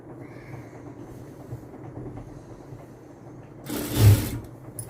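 A sewing machine runs steadily, double stitching the lining of a blouse, with a low continuous mechanical hum and a brief louder burst near the end; no one speaks.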